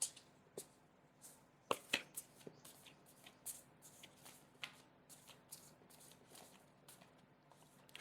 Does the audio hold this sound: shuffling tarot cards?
yes